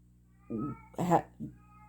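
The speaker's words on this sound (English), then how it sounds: "sorry, the cat. She's okay. She's just meowing." A cat meows close by in three short calls, the middle one longest and loudest, with quiet silence between them.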